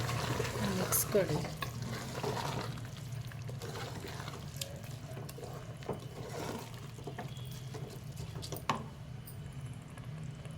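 Pulao rice is stirred and fried in a pan for palak pulao, a steady scraping, sizzling stir close by with a few sharper clinks of the spoon and a low hum underneath.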